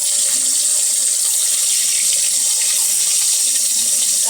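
Dried pieces of fish frying in hot oil for a fish curry give a steady, close sizzling hiss with faint scattered crackles throughout, and no voices.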